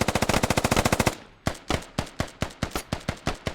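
A machine gun fires tracers in the Squad video game: a rapid, loud burst of about a dozen shots, a brief pause, then a slower string of heavy, evenly spaced shots, close and alone without talking.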